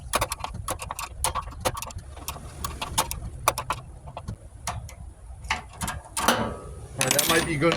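Hand wrenches clicking and ratcheting on an old scrap Ruud furnace, a close, irregular series of sharp metallic ticks and clanks, with a louder burst of rattling near the end.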